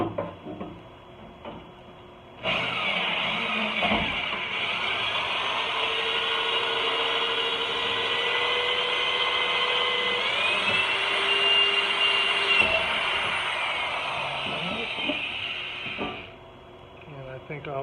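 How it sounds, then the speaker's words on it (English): A power drill runs steadily for about fourteen seconds, driving self-tapping screws into a metal front fender liner on a Jeep Wrangler JK, with a pitch shift partway through and brief handling knocks before and after. "All right, try to drill."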